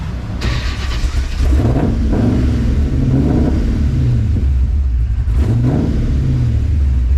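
A deep LS V8 swapped into an International Travelall wagon rumbles steadily at close range, with a few brief revs rising and falling over the idle.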